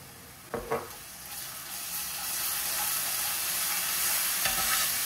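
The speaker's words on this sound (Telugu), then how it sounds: "తర్వాత కొంచెం అల్లం వెల్లిగడ్డ పేస్ట్ వేసుకొని మంచిగా మిక్స్ చేసుకోవాలి" Turmeric and ginger-garlic paste fry in a pan with a soft, rising sizzle, and two brief scraping clatters mark the spoon stirring near the start and end. Close, quiet, and wordless.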